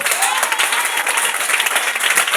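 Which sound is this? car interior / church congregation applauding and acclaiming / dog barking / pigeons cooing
church congregation applauding and acclaiming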